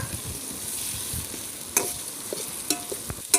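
Onions sautéing in oil in a pan on a rooftop while mutton biryani is cooked, a steady soft sizzle with occasional sharp stirring scrapes standing out.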